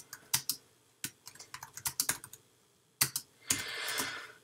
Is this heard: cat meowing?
no